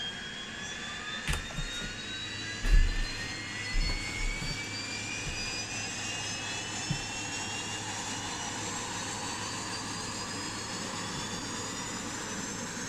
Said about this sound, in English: When you start the engine is fucking loud.